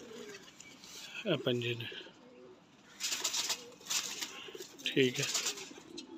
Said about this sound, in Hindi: प्योर रामपुरी कबूतर